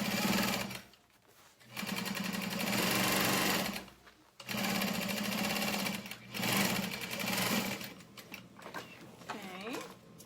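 A sewing machine runs in long steady bursts as it topstitches a fabric tote bag, pausing briefly between runs, with a few softer stop-start stitches and light handling noises near the end.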